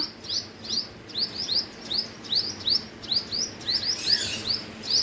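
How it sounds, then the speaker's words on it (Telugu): Small birds mobbing a squirrel give rapid, repeated sharp chirps at a steady rhythm, fairly close and clear above a quiet background. "చిన్న చిన్న బర్డ్స్ అన్ని ఉరికొస్తున్నాయి"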